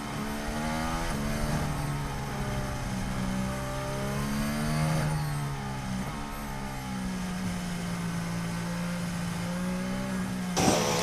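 Formula One car engine droning steadily while lapping behind a safety car at the 2021 Abu Dhabi race, a continuous loud mid-pitched hum that rises and falls slightly, with a brief sharp burst near the end.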